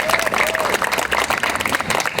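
Audience at a 2014 public panel about the West Seattle Bridge applauds the panelists, a dense, steady wash of clapping from a sizable crowd with a voice faintly mixed in.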